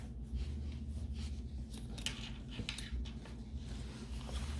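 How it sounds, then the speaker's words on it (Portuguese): Scissors trim excess fabric while sewing a zippered accordion wallet, with a series of close, crisp snips and rustles of cloth over a low steady hum. "recorto o excesso de tecido"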